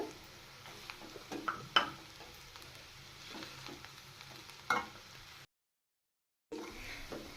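Chapati egg noodles tossed and stirred in a hot pan, with soft sizzling and scattered scraping clicks from the utensil, fairly quiet and close, broken by a second of silence near the end.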